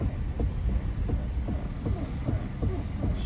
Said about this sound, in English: Also, the engine sounded horrible.